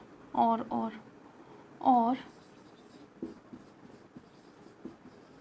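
Pen or marker writing during a chemistry lesson on solid state, faint scratchy strokes heard after a teacher speaks briefly, quiet room background.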